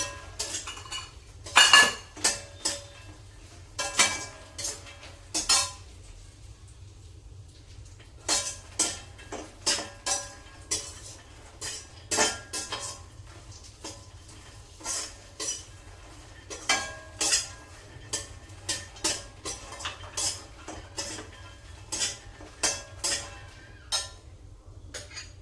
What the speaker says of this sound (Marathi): त्यात मी मनुका भाजून घेते आणि मखाना भाजून घेते।